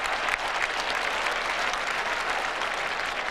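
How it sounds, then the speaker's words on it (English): A football crowd at the MCG during a 1990 AFL match between Melbourne and Hawthorn claps in a sustained, even round of applause, distant and washy with no single clap standing out. "You can hear them putting their hands together in a round of applause."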